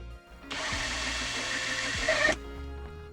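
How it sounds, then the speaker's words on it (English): An electric drill whirs steadily for about two seconds, drilling a small hole during a car radio install in a Mercedes C-Class W203; a close, loud motor whine starting and stopping abruptly. "I'll drill a small hole to make sure it lines up in a good spot"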